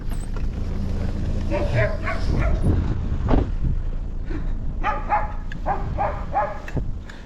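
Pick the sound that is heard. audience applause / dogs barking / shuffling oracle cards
dogs barking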